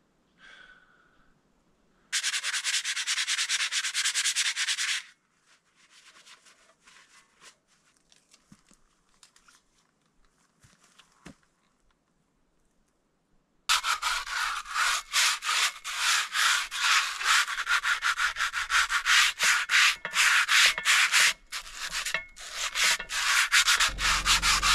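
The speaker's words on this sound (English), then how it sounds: "Just giving this target a quick scuff with some sandpaper." Sandpaper scuffs a steel shooting target in loud, steady rubbing strokes, a short burst at first, then quiet fiddling, then a long continuous stretch of rapid close-up sanding.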